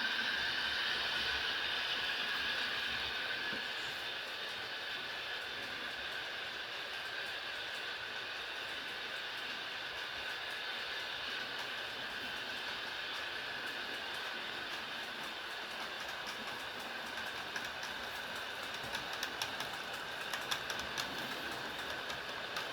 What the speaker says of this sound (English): I do love the click-clack that trains make coming across the swing bridge